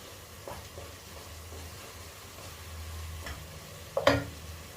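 Kerala-style beef heart roast masala in a pan is stirred with a spoon: a quiet, low sizzle, soft scraping strokes and one sharp clack of the utensil near the end, with no talk.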